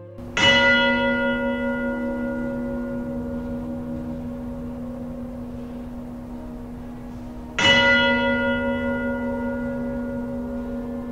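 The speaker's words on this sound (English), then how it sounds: "studied the cymatic patterns displayed when bells chimed within the structures" Two separate strikes of a large church bell, each ringing out loud and clear with a long, slowly fading hum, the second arriving about seven seconds after the first.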